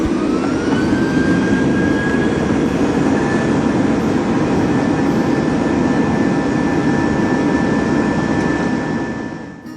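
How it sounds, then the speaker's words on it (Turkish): Jet engines of a Boeing 787 Dreamliner roar before takeoff at Rize-Artvin Airport, a loud, steady, close whine and rumble with a sustained tone that holds throughout and tapers off at the very end. "Boeing 787 Dreamliner tipi uçağımız birazdan Rize'ye gitmek üzere havalanacaktır."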